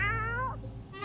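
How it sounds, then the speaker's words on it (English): A single drawn-out cat meow from the video game 60 Seconds, fairly close and clear, falling in pitch and fading out after about half a second. "His meow kind of scared me."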